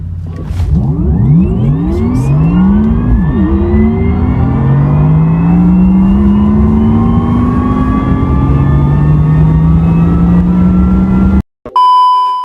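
A Wuling Air EV electric car accelerates with rising whines that climb smoothly and gradually in pitch, loud and sustained for about eleven seconds before cutting off abruptly.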